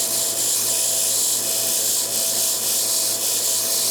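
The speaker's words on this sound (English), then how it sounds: "So you're just roughing it up so that there's something for the epoxy to stick to." Steady, continuous abrasive rubbing is heard as the tip of a golf club shaft is roughed up for epoxy during reshafting, close and even with a faint pulsing rhythm.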